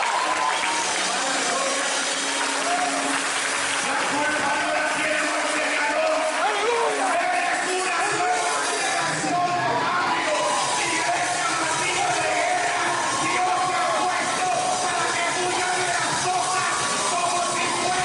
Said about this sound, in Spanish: Un aplauso de Jesús.